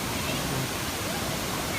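A waterfall near Chiplun in the Konkan roars as a dense, unbroken rush of falling water throughout, loud and close with no other sounds standing out.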